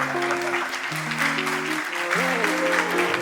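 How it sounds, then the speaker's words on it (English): A crowd applauds steadily throughout while sustained music plays alongside, inside a church chapel. "with a standing ovation and a round of applause, a resounding one at that"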